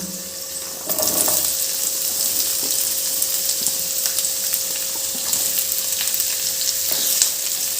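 Chopped onion and tomato sautéing with ginger and garlic in a pan for a paneer capsicum masala, a steady close sizzle with intermittent stirring clicks and scrapes.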